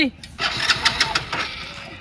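A new motorbike starts up, its engine catching briefly and then chugging with a rapid, uneven knock that stays close and loud. Someone is speaking just before it fires.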